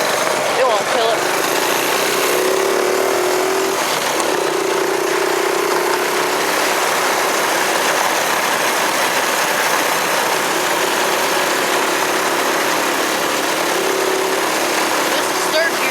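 A small engine with a 13-tooth drive sprocket and 44-tooth driven sprocket runs steadily in third gear after a cold start, a continuous buzzing drone with a faint whine rising and falling, a flat tire on the machine.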